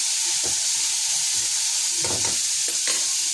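Cauliflower with onion and green chili frying in a pan, producing a loud continuous sizzle with a few brief stirring scrapes.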